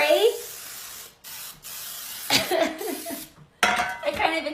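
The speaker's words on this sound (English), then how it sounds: "So I'm going to give them a really good spray." Cooking spray with flour hissing onto Gold Touch baking pans in a home kitchen, several close bursts of spray separated by short pauses, with light clinks of the pans between them.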